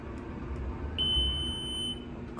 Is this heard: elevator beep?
yes